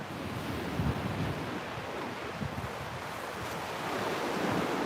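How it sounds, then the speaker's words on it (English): Waves wash onto a beach in a steady, full roar of surf mixed with wind buffeting the microphone, continuous and fairly loud with gentle surges, no voices. "Here's the beach to the south of us."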